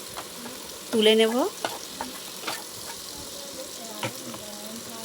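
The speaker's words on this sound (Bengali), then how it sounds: "চিংড়ি মাছটা আমার লাল লাল করে ভাজা হয়ে গেছে" Prawns fry in oil in a pan with a steady bright sizzle and occasional stirring clatter, while a voice speaks briefly over the crackle.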